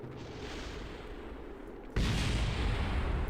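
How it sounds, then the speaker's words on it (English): Spacecraft explosions during fiery aerobraking in Kerbal Space Program: a steady roaring rush of atmospheric buffeting, then a sudden heavy boom that swells into louder, rumbling blasts. "There's some explosions going."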